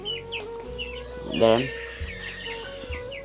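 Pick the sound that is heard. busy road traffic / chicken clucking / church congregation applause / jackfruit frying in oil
chicken clucking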